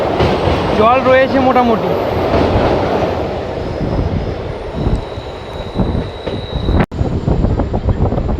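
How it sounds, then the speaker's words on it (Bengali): A train rumbles across the Murti river bridge, its heavy steady rolling roar loud and close, with a person talking briefly near the start. "ট্রেন এটা মূর্তি নদী ক্রস করছে"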